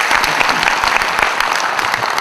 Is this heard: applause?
yes